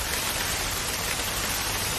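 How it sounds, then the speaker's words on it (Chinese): Continuous heavy rain, a uniform close-up hiss of drops hitting surfaces with no other sounds. "哎呀，下雨了，怎么办？"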